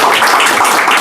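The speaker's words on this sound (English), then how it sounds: "So please give a round of applause to them." Audience applause at a spiritual talk: a dense, steady wash of many hands clapping, loud and close, brief, with no voices.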